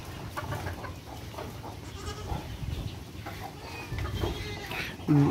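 Goats on a farm, including young kids, bleat repeatedly over a busy background of shuffling and animal noise, several calls close by.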